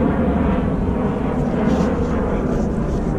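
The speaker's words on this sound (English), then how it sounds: "Airplane overhead." A passing airplane roars steadily overhead as a broad, continuous low rumble, loud and unbroken throughout, with no talk.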